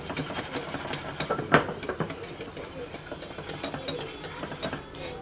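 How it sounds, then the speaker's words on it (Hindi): A whisk beats boiled milk with powdered milk in a pan, giving quick, steady scraping and tapping strokes up close while someone talks over the rhythm. "अब इसको अच्छी तरह विस्क कर लेंगे"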